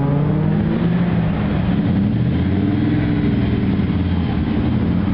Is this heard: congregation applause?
no